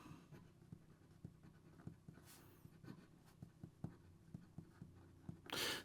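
A Kaweco Sport Piston fountain pen with a medium stainless steel nib writes on paper, giving faint, close scratchy strokes and small taps in an irregular rhythm.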